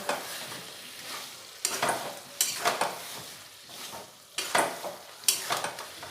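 Fried potatoes are stir-fried into spicy desi chicken masala for a red curry, with close, repeated scraping and stirring strokes in irregular bursts over a soft sizzle.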